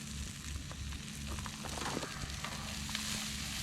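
Onions fry in a pan on a camp stove during a cool-night truck camping trip, a soft, low sizzle under steady background rumble and scattered faint crackles, with no voices.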